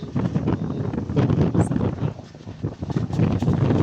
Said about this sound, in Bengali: সেই পরিমাণে বাতাস দেখেন, প্রচন্ড বাতাস